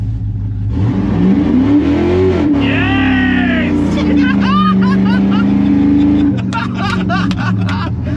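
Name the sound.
V8 truck engine revving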